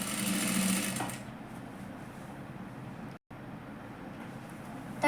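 A sewing machine runs close by, double-stitching the sleeve seam of a katori blouse, with a steady whirring run, a brief stop near the middle and a quieter hum after the first second.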